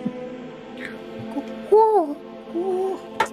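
A human voice imitates a sickly owl, giving a couple of short, wavering hoots with quiet pauses in between, close to the microphone.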